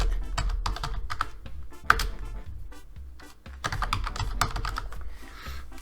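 Rapid keystrokes clatter on a computer keyboard while a folder name is typed, close and clear in quick bursts with a short pause midway, then more tapping.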